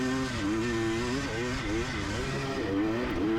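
A Kawasaki KX dirt bike engine revs and shifts pitch during a motocross race, close and loud, with a rider's voice talking over the engine noise.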